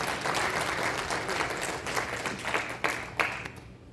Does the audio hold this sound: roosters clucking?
no